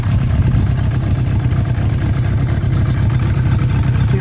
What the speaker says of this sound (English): See that the engine spinning